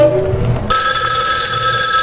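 A telephone rings loudly in a video game on Nintendo Switch, its bright electronic ring starting abruptly and holding steady and close.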